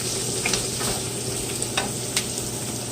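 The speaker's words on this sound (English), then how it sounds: "Throw a couple of green onions in there. Like 3 or 4 tablespoons full. Just saute those down." Green onions sautéing in a pan during Christmas dinner cooking, a steady close hiss of frying with a few soft utensil taps over it.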